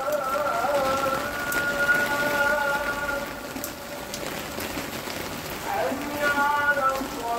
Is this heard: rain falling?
yes